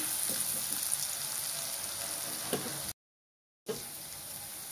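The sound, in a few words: onion lightly frying in hot mustard oil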